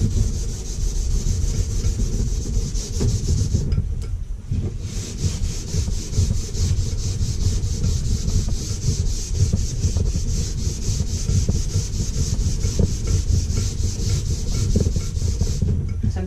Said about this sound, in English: Rubbing this in really good until it kind of dries a little bit.